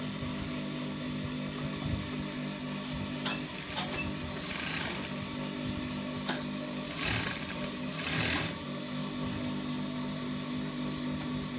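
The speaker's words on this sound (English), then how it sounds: "So as you can see, I'm doing the sewing." Sewing machine stitching contrasting fabric while making an agbada, a steady mechanical hum running throughout at moderate level, with a few louder bursts of fabric handling and clicks.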